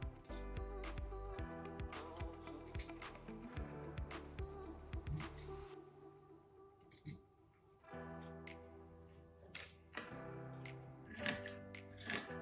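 Scissors trimming around felt circles, giving a series of close, crisp snips and clicks in an uneven rhythm, with a short pause midway before more cuts.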